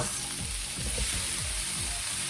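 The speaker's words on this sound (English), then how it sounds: "Next we can add the potatoes" Potatoes go into a pot of carrots, mushrooms and other vegetables cooking for soup, with a continuous soft sizzle and a few low, rhythmic thuds from the pieces landing and being moved. No speech.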